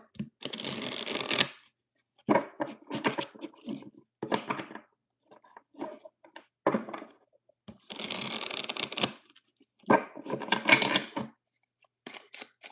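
Tarot cards being shuffled by hand in repeated bursts of riffling and sliding, each lasting about a second with short pauses between them, close and crisp, no voices.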